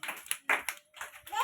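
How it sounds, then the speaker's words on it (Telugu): Young children at an anganwadi preschool clap in a few quick, scattered bursts, mixed with small voices in the room. "క్లాప్స్ కొట్టండి అందరూ."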